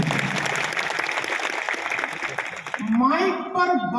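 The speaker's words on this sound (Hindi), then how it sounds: "जोरदार तालियां रितेश की टीम के लिए।" An audience at a direct-selling training session claps for Ritesh's team, a dense wash of applause that fades out as a voice begins speaking.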